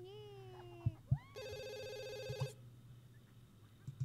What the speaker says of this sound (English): Jeez, the phone is just going crazy.